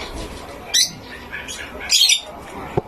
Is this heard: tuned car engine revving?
no